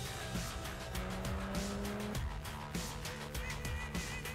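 Jaguar F-Type driven hard on a race track with the tail sliding out, tires squealing in repeated bursts over a loud engine revving up and down through quick gear shifts.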